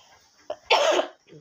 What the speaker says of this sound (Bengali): এখনও মাঝে মাঝে কাশি হয়,